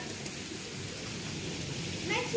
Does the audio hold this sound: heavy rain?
yes